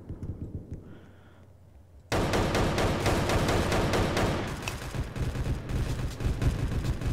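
Rapid bursts of shotgun fire in the Roblox shooter Oof Brigade, loud and repeated from about two seconds onward, with dense crackling gunfire filling the rest of the clip and no talk over it.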